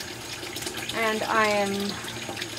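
A tap runs into a storage container being refilled with chlorinated water, giving a rising gush and splash that swells for about a second and then settles. A voice speaks faintly at the same time.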